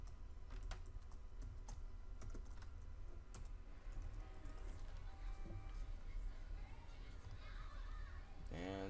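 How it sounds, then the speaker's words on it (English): Keys on a computer keyboard are tapped in short, quiet bursts of clicks, typing a file name under faint background noise. "So just type in file name."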